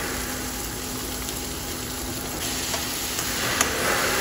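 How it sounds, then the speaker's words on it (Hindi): Chopped green chilies and onions fry steadily in a pan, a continuous close sizzle with faint stirring scrapes and no talk. "अब डालेंगे चॉप ग्रीन चिली, अनियंस, अब इन्हें फ्राई कर लेंगे।"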